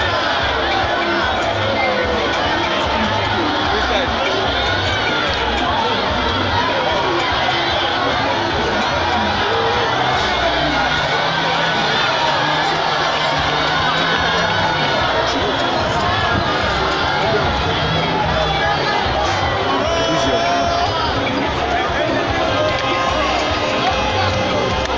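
A dense crowd of EndSARS protesters fills the Enugu Onitsha Expressway, a continuous loud roar of many voices with shouting and babble that holds steady throughout.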